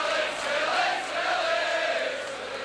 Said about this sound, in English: And the Leeds crowd at last having something to shout about.